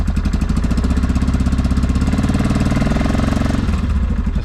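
A 2006 Yamaha Kodiak 450 ATV engine runs close by, loud and steady with a throbbing, pulsing idle and a slight shift in tone midway, with no talk over it.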